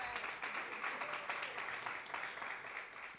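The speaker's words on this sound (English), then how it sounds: "Now give yourselves a round of applause." An audience at a lecture series event gives itself a round of applause, a continuous, even roll of many hands clapping at moderate distance with no talk over it.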